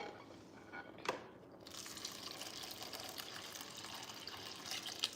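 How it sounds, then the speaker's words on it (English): Fresh water is poured over beans in a bowl to rinse them. A soft, steady rush of liquid with a brief splash near the start, kept fairly quiet throughout. "I'm going to add fresh water. I pour this one away."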